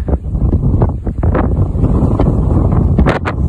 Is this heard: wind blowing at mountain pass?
yes